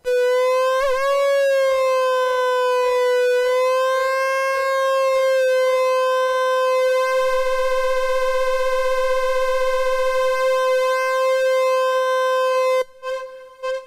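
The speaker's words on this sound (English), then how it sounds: "So the output is now affecting both the frequency, that is the pitch, and also the pulse width, the shape of the wave that's being generated." A modular synth saw wave with an LFO modulating both pitch and pulse width plays a loud, steady, buzzy tone. It wobbles and bends in pitch early on, then holds fairly steady before cutting off abruptly near the end.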